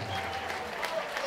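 Short burst of audience applause at a boxing event after a first-round knockout, a steady crowd patter of clapping heard briefly, with a little talk mixed in.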